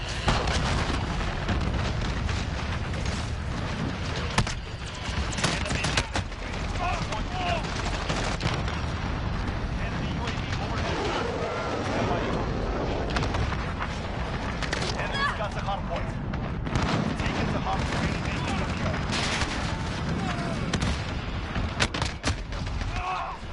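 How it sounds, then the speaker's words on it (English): A cruise missile strike rains down in a Call of Duty hardpoint match, heavy blasts and bursts of gunfire rolling on without pause, with voices talking over the combat throughout. "Allied cruise missile launched"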